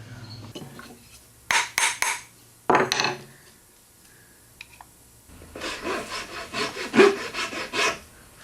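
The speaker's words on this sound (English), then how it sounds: "Then I can cut some tenons." Hand saw cutting tenons in wood for a joint in an artist's workshop, heard as two short bursts of rasping strokes followed by a longer run of steady back-and-forth sawing, close and loud.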